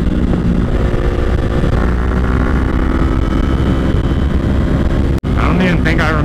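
A Yamaha R3 motorcycle rides on a cold highway, its engine a loud steady drone under rushing wind, with a brief dropout near the end.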